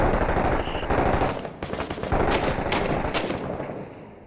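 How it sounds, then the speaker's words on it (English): Rapid machine-gun bursts and rifle fire ring out in close combat in the video game Six Days in Fallujah, dense rattling shots that pause briefly and then resume before fading. "I'm taking shots from one more spot."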